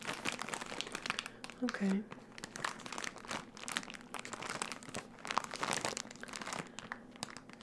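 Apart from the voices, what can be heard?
crinkling a plastic goodie bag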